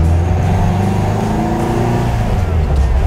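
A vintage Volkswagen bus engine roars loudly and steadily, its pitch climbing as it accelerates through a shift into third gear, heard up close.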